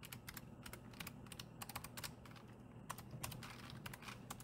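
Password being typed on a computer keyboard, a quick run of soft, close key clicks in irregular rhythm with brief pauses, no talking.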